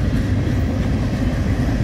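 A Norfolk Southern freight train with a DPU locomotive rolls past in Johnson City, Tennessee, a loud continuous low rumble and roar with no break.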